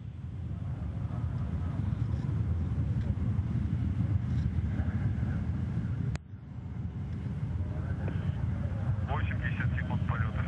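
Rocket engines of a Soyuz TMA-01M drive a steady, heavy low roar during launch and ascent, heard continuously from close by with one brief dropout midway and faint higher tones over the rumble.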